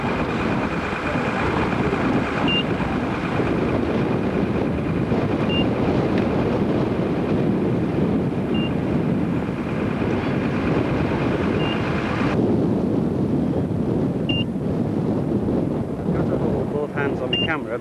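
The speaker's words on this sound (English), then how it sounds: "the wind is fairly strong up here" Strong wind buffets a camera microphone at the Royal Manx Agricultural Show, a constant loud rumbling roar that fills the whole stretch with no break, and a person speaks faintly under it.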